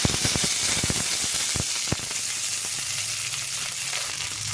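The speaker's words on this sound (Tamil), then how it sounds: "எண்ணெய் வந்து நல்லா சூடாயிடுச்சு. இப்போ கடுகு போட்டுக்கிறேன். கருவேப்பிலை போட்டுக்கிறேன்." Mustard seeds and curry leaves hit hot oil, crackling in sharp bursts at first and then settling into a steady sizzle, close and alone.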